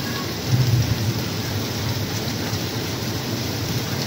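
Heavy rain pours steadily in Saudi Arabia, a dense, even roar of water hitting surfaces that holds at a constant level throughout, with a slightly heavier burst near the start.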